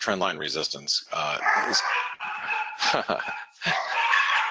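Dogs bark at a house with a big yard in the early morning, sharp yips breaking out several times behind continuous talk.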